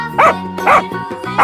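A cartoon dog gives three bright, evenly spaced barks, loud and close, with a musical backing tone under them.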